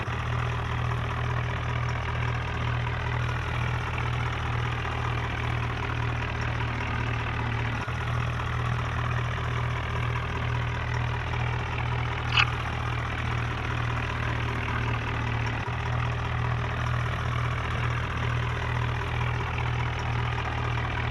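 A modified John Deere tractor engine idles steadily for about twenty seconds, a constant low rumble with an even throb, close and alone with no voices.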